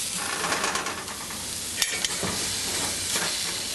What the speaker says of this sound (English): Just mix them around so that tamari sears onto the tempeh and then turn the heat off.